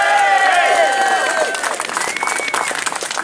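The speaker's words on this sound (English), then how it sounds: "Please give him a big cheer." Outdoor crowd at a political demonstration cheering and clapping, with loud whoops and whistles at first that settle into a steady patter of applause.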